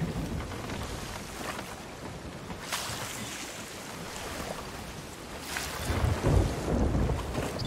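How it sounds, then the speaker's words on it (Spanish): Stormy sea in the video game Sea of Thieves, with a continuous roar of wind, rain and crashing waves, rumbling heavier near the end. "está buena las olas que se crean con la tormenta"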